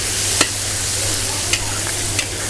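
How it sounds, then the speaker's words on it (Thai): Pork skin is stir-fried in a pan, giving a continuous sizzle punctuated by three sharp scraping clacks of a spatula at irregular intervals, over a low steady hum. "ดู ผัดหนังหมูก่อน"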